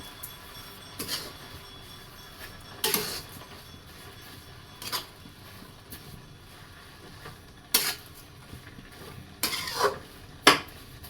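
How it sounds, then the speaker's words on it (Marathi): A cup of sugar is stirred into a sweet dish, with spoon scrapes and clinks against the pot in scattered bursts over a faint background sizzle. "त्यामध्ये टाकायची आहे 1 वाटी की साखर, जसं आपल्याला गोड आवडतं तसं, आणि हे छान असं मिक्स करून घ्यायचं आहे"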